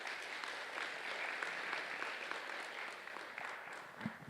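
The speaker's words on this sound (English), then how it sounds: "Please give a round of applause again to Dr." Audience applause at a clinical research conference after a talk, a steady, even crowd of clapping hands heard alone and fairly distant throughout.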